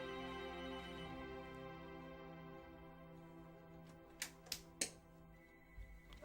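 A telephone rings during a Final Fantasy VII playthrough, with several sharp, loud ring bursts near the end over steady game music.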